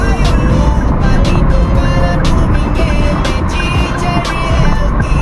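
A car passes on a road beside an industrial lot as a loud, sustained engine and tyre rumble, with brief ticking or clicking sounds recurring throughout.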